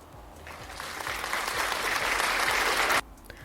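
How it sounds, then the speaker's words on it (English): Applause swells from a small audience, building from scattered claps into a fuller, brighter wash before cutting off abruptly near the end. "applause aside"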